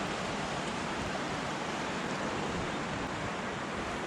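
Sea waves wash over flysch rock ledges on the coast between Zumaia and Mutriku as the tide rises, a steady loud broadband roar of surf with no distinct breaks, close and continuous throughout.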